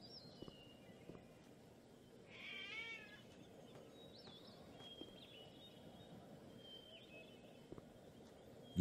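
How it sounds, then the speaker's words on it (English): Cat meowing in the adventure game Gabriel Knight 3, a single short wavering meow rising midway through a quiet ambient game backdrop with faint scattered clicks. "See the cats on the wall."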